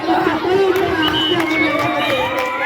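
Spectators at a school kabaddi match during an annual sports meet in Athani, loud and close, with shouting, cheering voices and scattered claps overlapping throughout.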